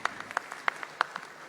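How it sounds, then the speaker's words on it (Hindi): Scattered clapping from a small audience at a stock market talk event, a brief burst of sparse, uneven claps at moderate distance. "चलो यही ताली बजाओ इनके लिए भैया"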